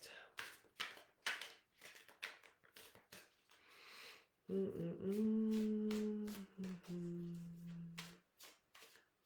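Slippery new tarot cards being shuffled and handled, a run of quick crisp riffling taps up close, with a steady hum in the middle stretch.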